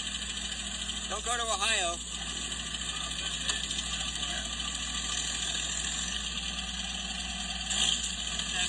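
A 1969 Ford Falcon, found abandoned, idles steadily with a continuous low rumble while people talk close by.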